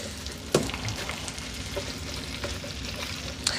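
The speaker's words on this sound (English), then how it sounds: "now that most of that butter's melted up, we're just gonna throw these potatoes down" Potatoes frying in melted butter in a pan, a steady close sizzle with a few sharper crackles and pops as the pieces settle.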